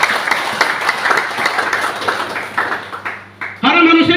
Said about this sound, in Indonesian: Beri tepuk tangan dulu buat Tuhan.